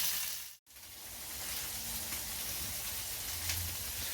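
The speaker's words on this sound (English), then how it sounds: "we're going to let this sear" Chicken searing on an outdoor grill, a dense continuous hiss of sizzling fat, close and steady throughout after a momentary break near the start, with no talking.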